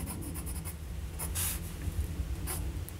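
A Parker Jotter fountain pen with a medium nib writes on a dot pad in Sheaffer Renegade Blue ink, giving close, soft scratchy strokes in short bursts with brief pauses and no voices.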